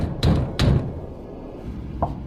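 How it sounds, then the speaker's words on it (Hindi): Door knocking effect from a horror cartoon: two heavy knocks land close together near the start, then a lighter single tap follows after a pause, over a low rumbling background. "कभी पूरी पूरी रात बाहर का दरवाजा बजता रहता।"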